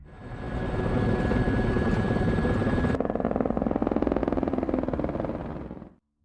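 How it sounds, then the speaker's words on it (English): A rented helicopter with rotor blades chopping in a fast, steady beat under a loud engine whine, close and continuous, then fading out abruptly at the end. "they hop onto the helicopter they rented"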